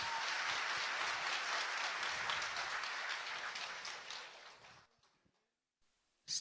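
A seated audience at a Hindi motivational talk applauds for the event's sponsor: a broad, sustained round of clapping for about four seconds that tapers off into near silence, followed by one brief sharp sound.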